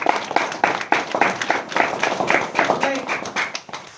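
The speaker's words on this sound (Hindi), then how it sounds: "ताली बजा।" A church congregation claps hands together in a steady, quick rhythm at a New Year service, the clapping running throughout beneath a voice speaking loudly over it.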